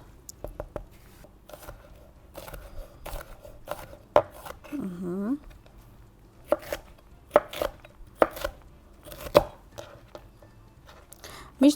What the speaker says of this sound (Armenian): բուլգարական բղբեղը ես կտրատելու եմ կուբիկներ ու հետո լոլիկը կուբիկներ